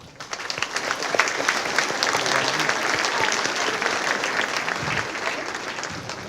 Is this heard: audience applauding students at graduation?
yes